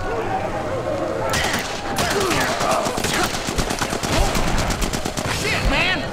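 Rapid machine-gun fire and overlapping gunshots roar through a prison riot on Ryker's Island in The Punisher video game, loud and dense bursts running throughout.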